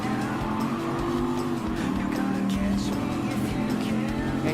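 Dodge Viper SRT10 race cars in Gran Turismo Sport roar together on track, a dense, continuous engine drone with shifting pitches from several cars, loud and close.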